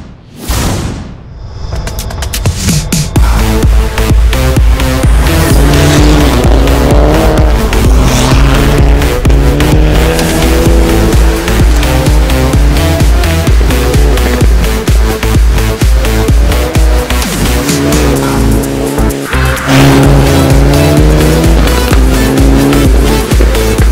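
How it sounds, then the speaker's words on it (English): Classic rally car on a snowy stage, its engine roaring loud and steady throughout as it drives past close by, with a brief quiet moment at the start. "A more classic rally car."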